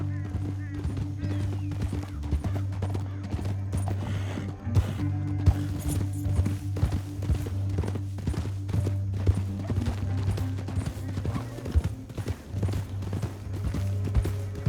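Horse hooves in Red Dead Redemption 2 clop steadily in a rapid rhythm over a low, constant rumble, with voices talking intermittently alongside.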